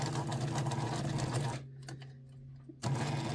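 A sewing machine stitches a headband with a thick thread, running in a steady loud whir that stops briefly for a second before resuming.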